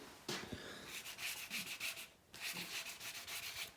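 Steady back-and-forth sanding strokes on a Pinarello F10 bike frame, rhythmic rasping with a brief pause midway, close and fairly loud, no voices.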